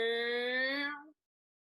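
A trombone sounds one sustained brassy note with a slight upward slide in pitch as the slide moves inward, lasting about a second before stopping cleanly, heard alone.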